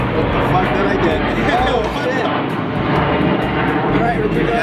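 A fixed-wing airplane roars overhead outdoors, a loud continuous broadband engine rumble filling the whole stretch without letup.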